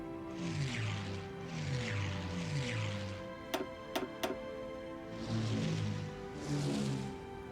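Droning propeller engines of naval bomber aircraft in the strategy game Hearts of Iron IV swell in repeated waves, broken midway by three sharp, evenly spaced clicks.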